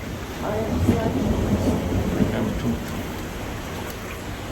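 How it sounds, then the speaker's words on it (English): Heavy rain pours down steadily in a rainstorm in Jujuy, a dense hiss with occasional low rumbles, lasting the whole stretch at close range. "It's still raining, but we hope the worst part is over."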